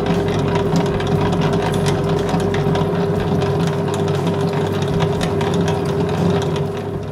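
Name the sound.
electric stand mixer kneading bread dough at second speed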